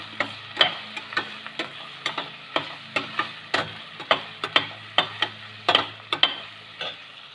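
A spoon stirs turmeric and red chili powder through rice in a cooking pot for peas masala rice, giving a steady run of close scraping clicks about every half second over a low background hum.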